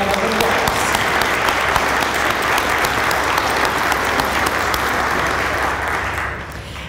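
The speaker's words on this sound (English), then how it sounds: "You should give yourselves a huge round of applause." Loud, dense applause from a banquet audience at a volunteer appreciation event, many hands clapping steadily close by before tapering off in the final second.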